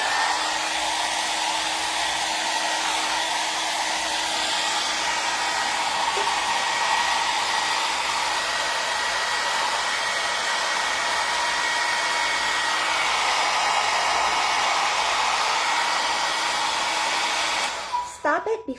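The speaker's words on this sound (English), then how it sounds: "you don't want to have the hairbrush dryer going on while you're pulling your hair out" A hot air brush hair dryer styling hair blows a steady, loud, continuous whoosh with a faint motor whine for almost the whole stretch, cutting off abruptly at the end.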